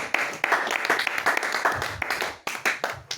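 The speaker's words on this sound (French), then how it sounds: "Tu veux pas continuer à acclamer?" A church congregation applauds during a service, with dense, steady clapping across the clip that dips briefly once before resuming in bursts.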